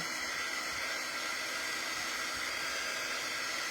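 A hair dryer blows a steady, even whoosh of air to dry transfer paste on a craft project. It runs continuously and close for the whole clip, with no voices.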